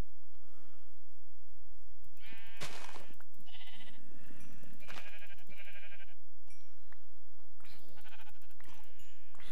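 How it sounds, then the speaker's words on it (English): Sheep in the video game Minecraft bleat repeatedly, several wavering cries spaced across the scene over a low steady game ambience, loud and close with no voices. "Oh, sheep! I can make bed."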